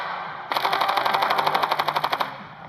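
A single rapid automatic burst of gunfire in the shooter game Standoff 2, about two seconds of evenly spaced sharp shots, loud and with no talk.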